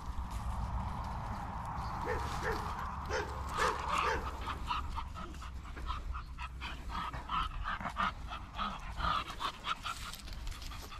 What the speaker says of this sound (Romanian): Poate așa, să latre un pic.